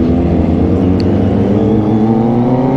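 A Kawasaki ZX25R motorcycle engine revs steadily at high pitch, a continuous loud whine that holds near and constant throughout.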